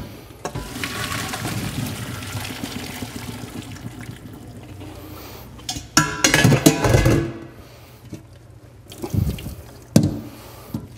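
Boiled potatoes and their hot water poured from a pot into a kitchen strainer, a running splash and gurgle of liquid with several louder surges and drips, heard alone at moderate level.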